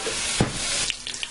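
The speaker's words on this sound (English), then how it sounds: "Now I'm going to fry these for roughly about 4 minutes on each side until they get brown." Beef patties sizzle steadily in a hot pan, a dense crackling hiss with a few sharper pops and a soft scrape, close up.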